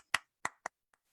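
A group claps a warm-up rhythm, a few crisp, close hand claps in an uneven pattern, the last one faint, with no talk.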